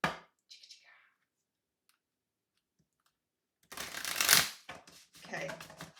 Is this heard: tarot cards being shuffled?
yes